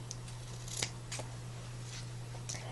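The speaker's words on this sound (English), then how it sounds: "And I always cut this double satin on a 45-degree angle." Scissors snip through double satin ribbon at an angle, giving several quick, quiet, crisp cuts spaced apart over a faint steady hum in a quiet room.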